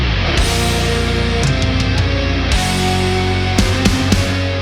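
Opening instrumental of an album, the intro piece: dense, loud, sustained orchestral-style music with swelling layered tones and a few accented hits, no voices.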